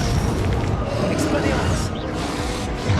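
Deep booming blasts from the Bombarda and Confringo spells in the Hogwarts Legacy video game, a dense continuous rumble with a voice calling out over it.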